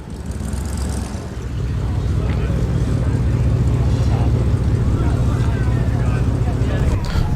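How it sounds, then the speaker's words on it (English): Ford Mustang V8 idling at a classic car show at Crewe Heritage Centre, a steady deep rumble that swells slightly after the first second and then holds loud and close, with faint crowd murmur behind it. "The Mustang showing off its V8"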